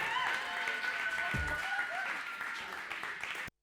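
A comedy show audience applauds comedian Kgathatso, dense steady clapping filling the room before cutting off abruptly.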